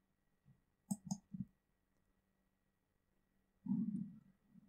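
Computer mouse clicks in FreeCAD, a few quick close taps around the first second and a half, followed by a brief louder rustle near the end, with no talking.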